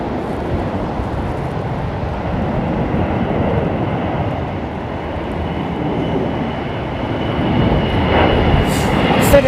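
Boeing 767 jet at Heathrow Airport, a loud broad roar that swells steadily and grows louder toward the end, with no talk over it.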